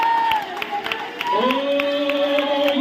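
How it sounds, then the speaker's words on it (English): A church congregation claps its hands in worship, a steady run of rhythmic claps under sustained singing and voices. "Shall we give a hand clap of worship?"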